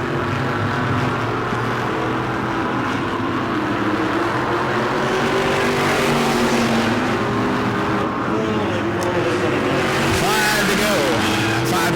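Modified race cars roar around the New Smyrna track late in the race, a loud, steady blend of engines close by throughout, with a commentator talking over the noise.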